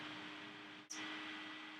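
An air conditioner runs with a steady, even whoosh and a low hum, broken by a brief dropout and click midway before the same constant noise resumes.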